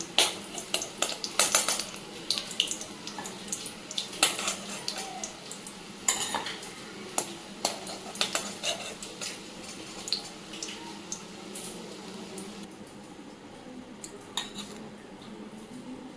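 Fried fish-roe fritters lifted from a pan of hot oil, metal utensils clinking and scraping against the pan over a faint sizzle, with a few sharper knocks.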